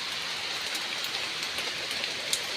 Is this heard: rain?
yes